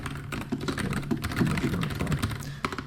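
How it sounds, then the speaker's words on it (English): Steady typing on a computer keyboard, a close, continuous patter of key clicks with no talk over it. "Pardon my typing."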